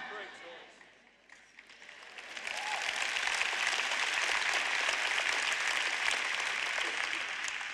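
Church congregation applause during a sermon swells in after a quiet, softer opening, then holds as a broad, steady wash of clapping from a large crowd, fairly distant, with some murmuring beneath.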